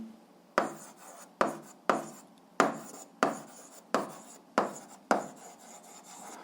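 Pen strokes on paper as an answer to an eighth-grade physics problem is written out, a steady series of about eight scratchy strokes at a regular pace, close and fairly quiet.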